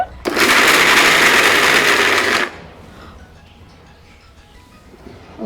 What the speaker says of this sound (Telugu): మళ్ళీ మిక్సీ జార్లో ఆ పొడి అంతా మళ్ళీ వేసి ఇప్పుడు తిప్పాలి గట్టిగా